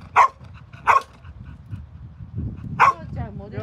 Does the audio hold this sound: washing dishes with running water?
no